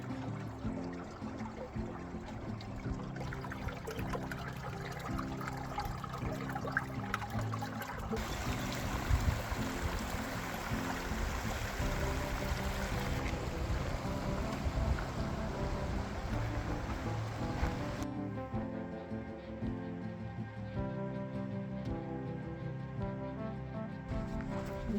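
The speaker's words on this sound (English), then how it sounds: "You can hear the water flowing under the rocks at the outlet." Water gurgles and flows beneath rocks at a mountain lake outlet in Rocky Basin Lakes, a steady continuous rush close by with no talking.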